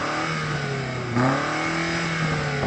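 A BMW SUV's engine revs up with a rising, mid-pitched mechanical note, then holds a steady drone for a couple of seconds, loud and with no one talking over it.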